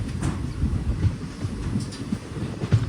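A train runs through hilly country on the Tiruvannamalai to Tirupati line, a steady rumbling roll with faint rhythmic wheel knocks, continuous and close, with no voices.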